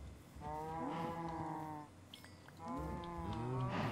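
Cows mooing in Minecraft, two long drawn-out moos in a row, moderately loud and close, with no talk over them.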